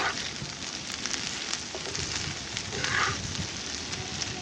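Okra frying in a pan on a gas stove gives a soft, continuous sizzle and crackle, close but fairly quiet, with small pops scattered through it and no voices.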